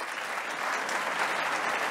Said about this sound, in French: Donc merci d'applaudir